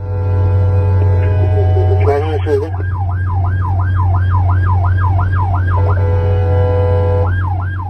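An ambulance siren wails on the D100 highway, a loud, steady rising-and-falling tone repeating in regular cycles over constant low traffic rumble, with a brief break near the end.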